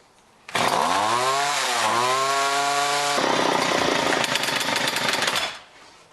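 A John Deere weed whipper with a gummed carburetor starts up and runs loud and close, its small two-stroke engine whining up in pitch, dropping, then settling into a rough buzzing high idle for several seconds before cutting off.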